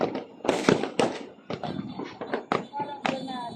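New Year fireworks exploding in a provincial setting as 2026 arrives, a series of sharp, loud blasts and crackling bursts at irregular intervals, some close and booming, with people talking between the bangs.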